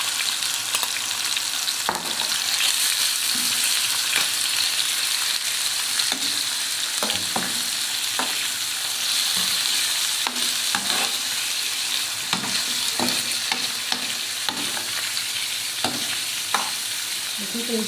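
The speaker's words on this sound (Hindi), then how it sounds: "5 मिनट हम कलेजी को ऐसे ही फ्राई करेंगे" Goat liver pieces sizzle steadily in oil on a tawa while a utensil scrapes and stirs in irregular clacks, the frying hiss constant and close throughout, with no talking.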